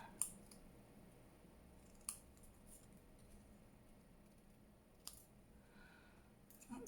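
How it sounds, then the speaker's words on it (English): Scissors trimming a paper circle about 1.5 to 2 inches across: a few sharp, isolated snips spaced seconds apart in a quiet room. "Let's trim this round again."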